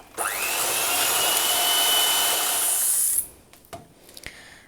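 An electric hand mixer whirs up and beats oil into red velvet cake batter with a steady, loud high whine for about three seconds, then stops, leaving a few soft clinks.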